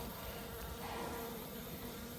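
Honey bees balling up at the old entrance of a hive, giving a faint, continuous buzzing hum with no pause, heard close and alone.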